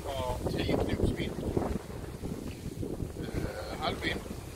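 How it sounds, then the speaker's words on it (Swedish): Wind rushing over a sailboat under sail at about 5.6 knots in a 10-knot beam reach with calm water, a steady broadband blow with faint voices in the background. "Vi har 10 knops vind."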